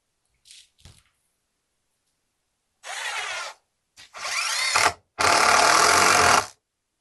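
Power drill driving a 2.5-inch screw into a wooden deck chair, heard as a few short bursts: a brief whir, then two longer loud grinding runs close by, with quiet gaps between.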